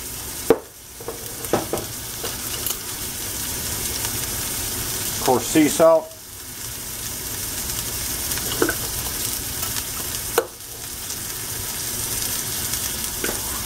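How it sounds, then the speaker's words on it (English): Ground chuck sizzles in a cast iron pan with a steady frying hiss, broken by stirring scrapes and clatter, while a person talks over it. "Dump some ground chuck in there. A little sizzle."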